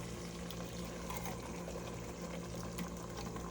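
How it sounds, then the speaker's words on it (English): Canned red kidney beans with their juice pour into a pot of chili, a steady wet, sloshing liquid rush that runs continuously at close range with no talking. "Mine today will be red kidney beans, and I am adding them with the juice."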